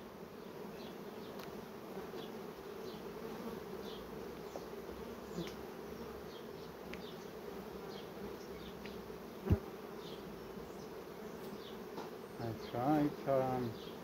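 Steady, dense buzzing of many honeybees fills the whole stretch, close by and continuous, with a couple of brief soft thumps and faint rustling near the end.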